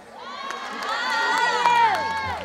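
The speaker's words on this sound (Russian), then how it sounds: "давайте поаплодируем!" A festive crowd at a village anniversary celebration cheers and shouts with many overlapping high voices, the cheering swelling in loudness over a couple of seconds, with clapping mixed in.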